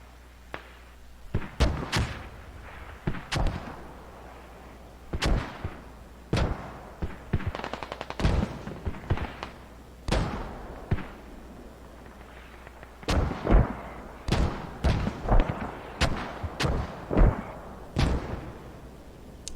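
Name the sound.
mortar fire in a video game battle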